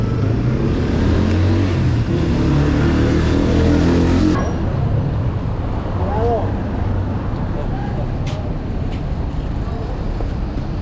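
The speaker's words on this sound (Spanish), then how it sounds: "los camiones andan más locos el día de hoy, más locos de lo normal" Heavy trucks roar past loudly along a roadway, with a sustained rumble that swells during the first four seconds and then eases into steady traffic noise while someone talks over it.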